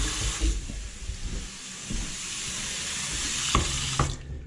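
A house faucet runs to purge air from the line, a close, steady hiss of water splashing into a sink with a couple of brief knocks near the end before it cuts off.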